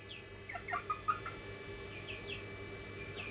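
A four-week-old young rooster of a white mini-meat chicken breed gives several short, close clucks against a quiet barn background.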